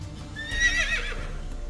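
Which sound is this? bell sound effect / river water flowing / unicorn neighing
unicorn neighing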